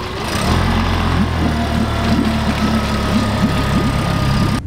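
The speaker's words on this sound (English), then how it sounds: "The Yamaha 20 horsepower engine." A brand-new Yamaha 20 horsepower outboard motor running on a new AB dinghy, a steady close idling drone with a rapid pulsing rhythm that holds evenly for several seconds.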